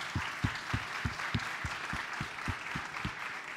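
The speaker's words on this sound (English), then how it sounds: "if you can just give them a round of applause again" Small audience applause at a brand challenge event, a steady patter of claps, fairly faint and distant, with a regular rhythmic beat running underneath.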